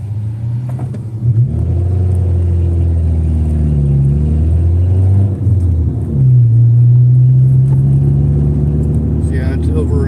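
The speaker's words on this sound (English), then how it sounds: "See how it's over revving, but it's not quite biting?" A car engine over-revs with a droning rumble that rises and falls in pitch while the clutch fails to bite after idling too long. It sounds close and steady, with a voice talking over it.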